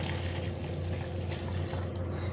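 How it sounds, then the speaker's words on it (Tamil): A tumbler of water is poured into a pan of powder while making Bombay sambar, giving a continuous close splashing gush that holds steady throughout with no voices. "ஒரு டம்ளர் தண்ணி"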